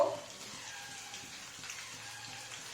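Chopped tomato sizzling in hot oil in a kadai with onion, ginger and garlic, a steady soft frying hiss running throughout at moderate level with no talk.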